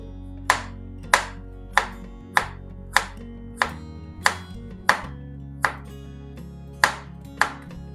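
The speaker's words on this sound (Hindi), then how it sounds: "इसके आपने बारीक स्लाइस कर लेने" A knife finely slices ginger on a board, about a dozen crisp, evenly spaced strikes close by, with no talking.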